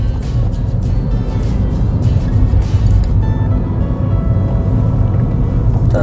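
A manual car pulls away in first gear on a Korean road-test course and shifts up straight away, its engine a steady low drone close by while the revs rise and drop through a quick gear change.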